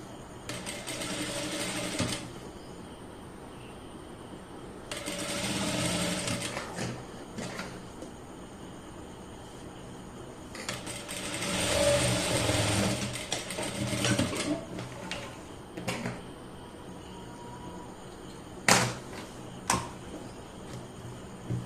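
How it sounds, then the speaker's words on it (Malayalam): Domestic sewing machine stitching a folded fabric seam on a garment, running in several short bursts of a few seconds each with pauses between, moderately quiet with a few sharp clicks toward the end. "ആ രീതിയിലായിട്ട് മടക്കിയിട്ട് സ്റ്റിച്ച് ചെയ്തെടുക്കുക."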